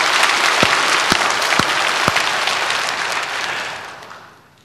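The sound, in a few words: audience applause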